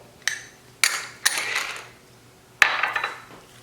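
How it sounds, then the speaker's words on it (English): A whisk mixes dry spices in a bowl for a tilapia marinade: a few sharp metallic taps and short scraping swirls close by, separated by quiet gaps. "with the help of whisk, just mix them together"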